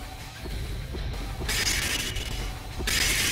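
Crystals shattering in the video game Project: Kaiju, two bright, glassy crash bursts about a second apart over a steady low game hum, loud and close, without speech.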